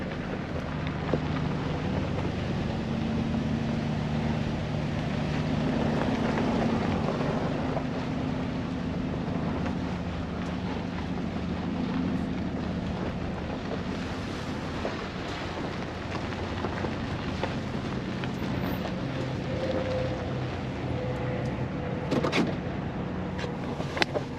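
A car drives along a dirt road beside the border wall near Quitobaquito in Organ Pipe Cactus National Monument, with a steady low engine and road rumble mixed with wind buffeting across the whole stretch.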